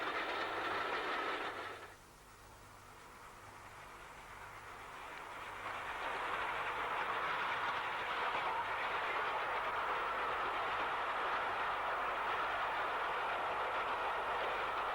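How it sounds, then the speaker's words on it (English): GWR Manor Class 7820 steam locomotive of Oxley Wolverhampton shed working hard up a gradient across a level crossing toward Birmingham, a broad steady roar of exhaust and rolling wagons that dips briefly then swells loud and continuous. "Manor Class 7820 Dinmore Manor of Oxley Wolverhampton Shed is working hard as she comes up and across Swan Lane level crossing heading for Birmingham"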